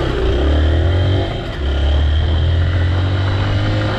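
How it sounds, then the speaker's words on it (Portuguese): A motorcycle engine runs steadily at close range, its low throbbing drone dipping briefly then holding strong, with wind rush over it. "Tá ouvindo o motor da moto?"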